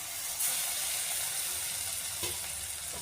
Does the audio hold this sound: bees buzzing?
no